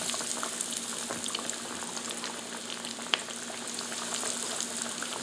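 Thin chicken fillets sizzle in hot canola oil in an electric skillet at around 400 degrees, a steady close crackle and hiss with scattered pops, going on without a break.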